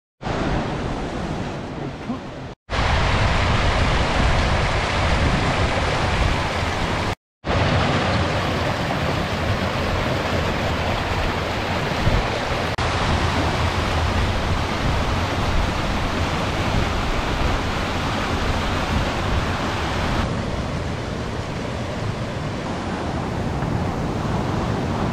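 Rushing water from a waterfall below Tintagel Castle on the Cornish coast, a loud steady broadband roar that runs continuously, broken by two brief dropouts, with wind buffeting the microphone.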